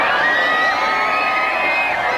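A dense crowd of Filipino devotees cheers and shouts continuously for Pope Francis's motorcade, a loud, steady roar of many voices with high whoops rising above it.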